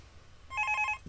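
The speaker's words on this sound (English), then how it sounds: "And this annoying phone again." A telephone rings in the game Five Nights at Thomas', a single short burst of rapid trilling bell tones over a low room hum.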